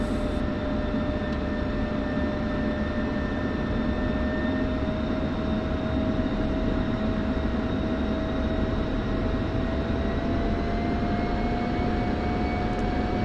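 An F-16C taxiing in the DCS flight game, its jet engine a steady loud whine with a broad roar beneath, holding even throughout with tones slowly rising.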